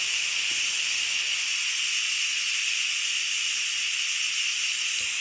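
An Instant Pot pressure cooker vents steam in a loud, continuous high hiss that holds steady throughout, close up and with no speech over it.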